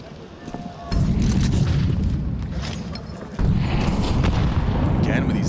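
Grenades exploding in a Counter-Strike match, two heavy booms arriving a few seconds apart, each followed by a loud rumbling tail that stays up through the rest of the moment.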